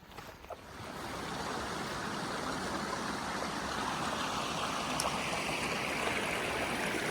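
A water stream on the Pacific Crest Trail rushes at a steady, close, continuous level, quietly at first and then filling out without any break.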